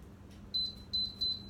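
An air fryer's control panel gives three short, clear, high-pitched beeps in quick succession as its timer is set, close and distinct over a quiet kitchen background.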